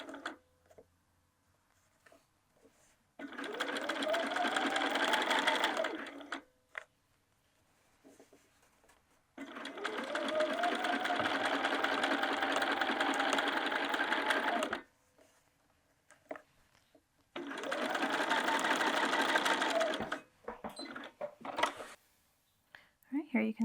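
A sewing machine stitches a bag body seam, running in three long steady bursts separated by short pauses, close and fairly quiet.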